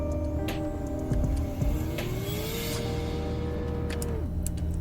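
A car engine in the video game CDT (Car Driving Test) drones with a muffled, smooth tone that slowly climbs in pitch and then drops, alone and at steady loudness.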